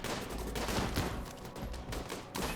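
A minigun fires sustained, rapid bursts in a video game battle over floating islands, a dense rattling barrage that stays fairly faint throughout.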